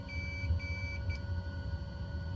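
Master warning alert in the cockpit of an EMB121 Xingu in Microsoft Flight Simulator: three repeated steady beeps over a constant engine drone, with a brief click near the end.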